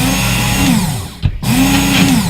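Work Sharp knife sharpener running a fine grit belt to strop a knife blade, a loud steady motor whine that dips briefly as the blade is lifted and turned, then resumes.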